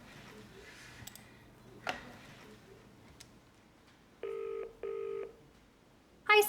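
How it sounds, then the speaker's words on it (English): Telephone keypad tones beep in quick succession as a vet dials a pet owner, followed by two long ringing tones, with a faint background hum and brief clicks. "So I'll just give Sarah a ring."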